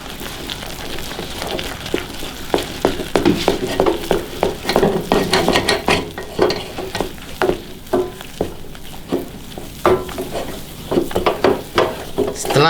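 Flour being stirred into boiling margarine and water in a pan, with a continuous sizzle and bubbling under repeated scraping, knocking strokes of the spoon, close and fairly loud throughout.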